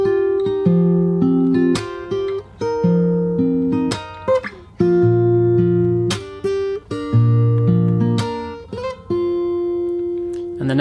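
Fingerstyle acoustic guitar picks the opening two bars, with clear bass notes and ringing treble strings in a slow, repeating pattern, close and alone with short pauses between phrases.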